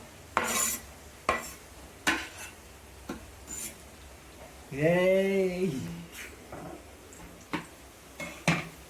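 A spoon stirs chicken curry in a pan, giving sparse, sharp clinks and scrapes spaced a second or so apart, with a short burst of voice in the middle.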